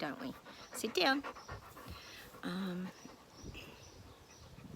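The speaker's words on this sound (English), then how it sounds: "Sorry about my dogs, they're always attention seeking." A dog pants close by in quick, breathy bursts, with a short whine, while a person speaks over it.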